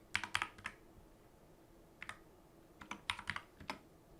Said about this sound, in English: I'm going to type in Ozark Trail.